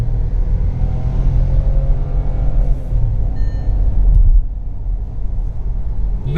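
A 2021 Skoda Kushaq with the 1-litre engine and automatic gearbox accelerating hard to overtake, heard from inside the cabin as a loud, sustained low engine drone and road rumble with a brief shift in tone midway.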